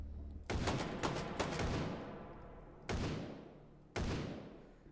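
Gunfire from a firearm in the VR shooter H3VR, a rapid burst of several close shots followed by two separate single loud blasts with decaying echoes.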